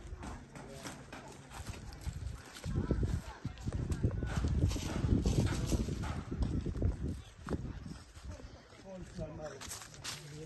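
Donkey hooves clip-clop on the ground in a storm-devastated Jamaican village, a steady near rhythm of hoofbeats heard under people talking nearby.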